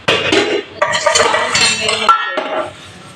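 Dishes and pots being scrubbed and washed by hand, with close, loud clinks and clatters of metal utensils and pans knocking together in irregular bursts, with short pauses between.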